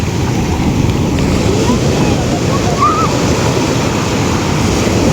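Strong sea waves roll in at a beach in a steady, loud roar of surf mixed with wind buffeting the microphone.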